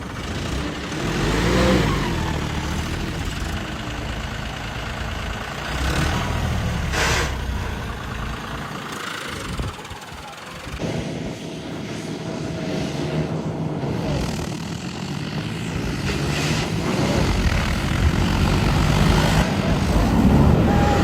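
Two tractors idle and rev together outdoors before a race, a loud continuous engine rumble with rising and falling revs throughout.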